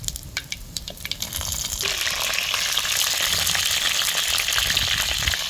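Masala-stuffed brinjals drop into hot oil with mustard and cumin, scattered pops giving way to a loud, continuous sizzle close up.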